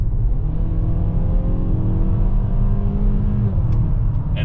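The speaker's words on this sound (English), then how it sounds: "The engine sounds great." 2023 Mazda CX-5 non-turbo engine accelerating in regular mode, heard from inside, a steady rising drone with climbing engine tones, close and continuous.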